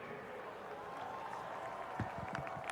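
Spectators applaud at a ceremony during the Nebraska Class B state football championship between Skutt Catholic and Bennington, a faint, steady wash of distant clapping with crowd murmur and a few louder claps near the end.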